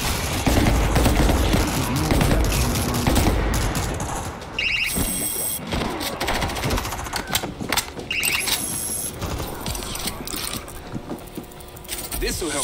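A .50 caliber turret fires in the World War Z: Aftermath video game, with dense, loud bursts of rapid gunfire and mechanical clatter running almost continuously, plus brief pauses and sharp metallic clanks from the game.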